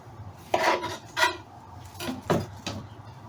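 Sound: knife cutting off ends of small pickling cucumbers

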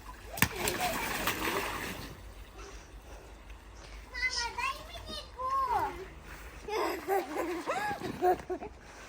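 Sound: child splashing in a Bestway Steel Pro frame pool

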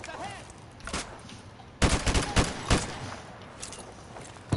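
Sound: MP5 submachine gun firing in Modern Warfare 2 Remastered video game

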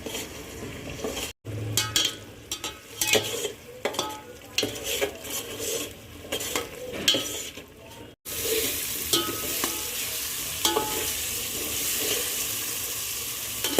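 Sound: finely chopped onion sautéing in a pan for chicken biryani

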